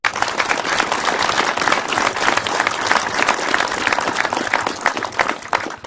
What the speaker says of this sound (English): deserves a round of applause from each and every single one of us